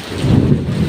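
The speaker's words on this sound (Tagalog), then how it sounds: "Kulog." Thunder rumbles during a heavy rain and wind storm, a deep continuous low roll heard close and loud, with rain noise beneath and no voices.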